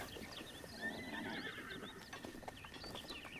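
A horse in the video game Breath of the Wild neighs with a high, wavering whinny over faint hoof clip-clops, fairly quiet and close, with no talking.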